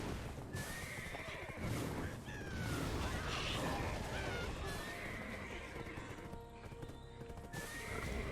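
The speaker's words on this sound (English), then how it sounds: "if I can just park my horse up here somewhere" Horse in the video game Black Desert Online, heard as repeated whinnies and neighs over clip-clopping hooves, fairly close and varying in loudness, with scattered game effects in the background.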